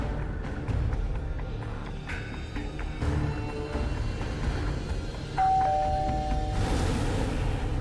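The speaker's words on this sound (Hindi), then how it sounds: "मैं डोरबेल बजाता हूँ" A doorbell chimes with a sustained ringing tone over a busy, noisy background, followed by a brief louder burst near the end.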